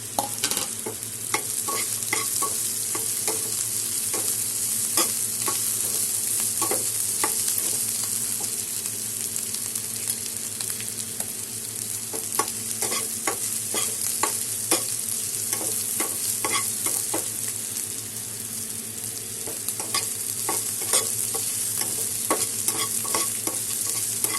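Grated ginger and chopped green chillies fry in a pan for aloo chokha, a steady close sizzle broken by repeated sharp scrapes and clicks of a spatula stirring, with no talking.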